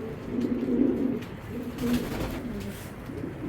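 Foreign racing pigeons cooing at close range, soft repeated low coos in a few bursts over a quiet background, with no talking.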